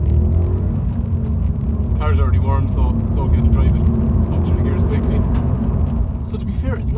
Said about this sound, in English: The car's already warm, so it's okay to drive it up through the gears quickly.